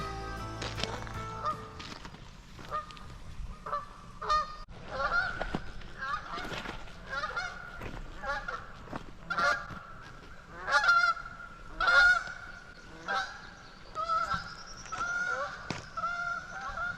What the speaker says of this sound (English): There's a goose over here right next to the pond road, and there's one in the pond.